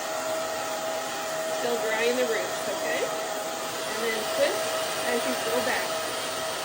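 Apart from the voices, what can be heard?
hair dryer blow-drying hair with a round brush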